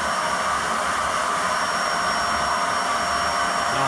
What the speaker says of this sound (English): Switch the vacuum cleaner off